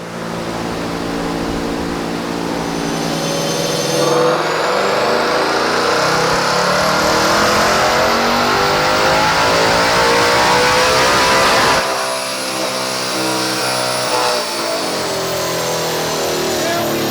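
A 2024 Ford Mustang Dark Horse fitted with a Whipple supercharger on a 375 pulley, running octane booster, revs hard with a loud sustained engine roar that climbs and falls in pitch, with a whine over the top and brief pauses between pulls.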